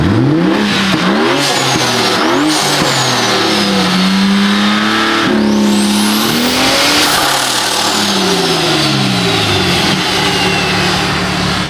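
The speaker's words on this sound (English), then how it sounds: "let me hear anti-lag" A loud, aggressive 900 hp built-engine BMW M4 revs hard and continuously with anti-lag, crackling exhaust pops and a high whine over the roar, very close.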